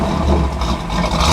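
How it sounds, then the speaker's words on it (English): A 1971 Camaro RS/SS engine revs briefly, a loud, rough, close rumble with no talking. "Gonna rev it up a little bit."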